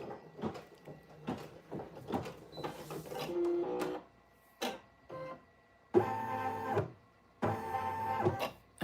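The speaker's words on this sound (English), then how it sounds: "This is basically doing the satin stitch, okay? Going around it, and it's gonna have a nice, real thick stitch around it" Embroidery machine sewing a thick satin-stitch border around a patch, its mechanical stitching coming in short choppy bursts and longer steady runs, fairly quiet and heard alone.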